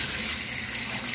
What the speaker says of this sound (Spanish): Simplemente lo que echa es agua caliente, lo agita un poco